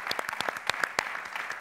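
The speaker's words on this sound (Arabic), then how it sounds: "تصفيق عليك" Audience applause in a studio music program, a short burst of scattered clapping with distinct sharp claps rising and falling over under two seconds, fairly close and without talk.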